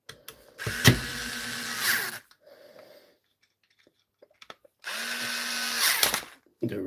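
A cordless power tool with a ratchet runs in two loud, close bursts during a repair of a Dewalt or Milwaukee tool, separated by a quiet gap with faint clicks and handling noise.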